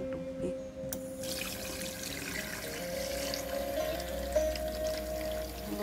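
Water poured over raw pig feet in a pot while preparing kare-kare, a steady splashing rush that runs the full stretch with no talk over it.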